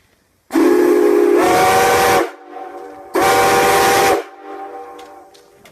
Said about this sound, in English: Yeah, that's a cool sounding whistle.